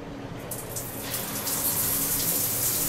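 Water streams steadily from an electric shower head, a constant hiss that grows a little fuller after the first second.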